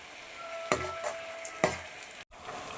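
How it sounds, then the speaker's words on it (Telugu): Tomatoes fry in a pan while a utensil stirs and scrapes them, with a bright steady sizzle broken by a few sharp clinks of metal on the pan and a brief drop-out near the end. "చక్కగా ఈ టమాటాలన్నీ బాగా వేగేలా ఫ్రై చేసుకుందాం"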